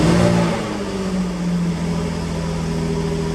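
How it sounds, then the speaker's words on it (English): A Jaguar F-Type R engine just after starting, held at a high idle with a loud, steady rumble that eases slightly after a brief initial surge, close and alone. "The engine over revs for a few moments in order to protect the catalytic converter"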